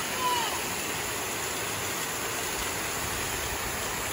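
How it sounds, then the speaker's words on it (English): Continuous splashing water pours from a nearby dolphin-sculpture fountain at a library entrance, a steady broadband rush with a brief faint squeak at the start. "It's a water fountain."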